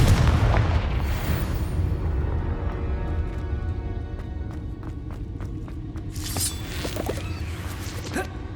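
A Confringo blasting spell goes off in Hogwarts Legacy with a loud booming blast at the start, followed by a rumbling tail, a run of sharp cracks and later another bright burst.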